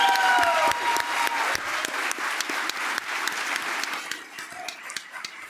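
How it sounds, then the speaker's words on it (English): An audience at a leadership debate in Lethbridge applauds the candidates, lively clapping that gradually thins and fades toward the end, with a faint voice briefly audible beneath. "please give a round of applause for all of the candidates answering these questions"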